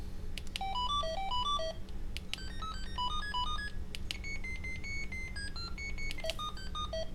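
An EnGenius FreeStyle2 cordless phone cycles through its ringtone selections: short melodic beeping phrases, each a different pattern of stepped electronic tones, play one after another with brief gaps over a steady low hum.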